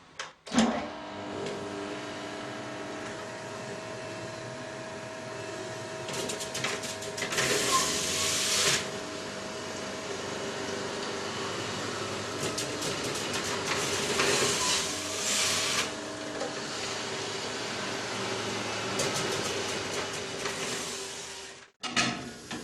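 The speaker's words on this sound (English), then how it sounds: "Okay, it's time to juice some kiwis now." Two electric juicers, a Magimix Le Duo XL and a Catler, running on kiwis: a steady motor whine with a sustained hum, louder grinding bursts as fruit is pushed through, continuous for about twenty seconds before cutting off.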